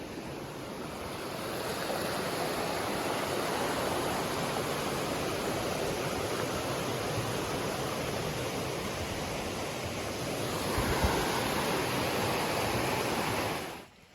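A tiny creek flows steadily along a Pacific Crest Trail stretch between Cascade Locks and Timberline Lodge. Its broadband wash stays close and even for the whole stretch and ends abruptly, with no talking.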